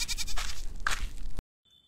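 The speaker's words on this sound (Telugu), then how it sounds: "మేకలు మళ్ళీ అరుస్తాయి." Goats bleat in a couple of close, loud, wavering calls that overlap briefly before cutting off abruptly into near silence.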